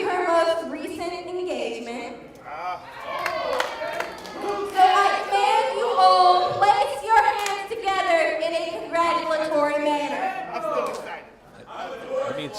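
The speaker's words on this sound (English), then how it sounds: "It's clapping, I guess." An audience claps together at a live show, a steady patter of many hands that runs under loud, close talk and chatter for most of the stretch.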